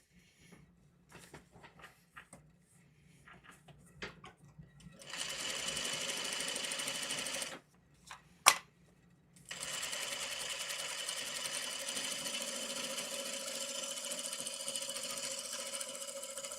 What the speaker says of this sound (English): So I'm going to sew right on that line between number 1 and number 2